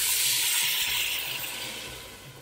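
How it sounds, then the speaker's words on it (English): Vegetable broth is poured into a hotpot of fava beans and chickpeas, giving a loud, steady rushing splash and sizzle up close that gradually fades. "And now we add the vegetable broth."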